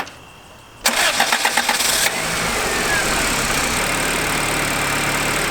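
After a moment of quiet, a turbocharged Honda Civic engine that had been smoking cranks with a rapid rhythmic churn, catches, and settles into a steady, loud idle.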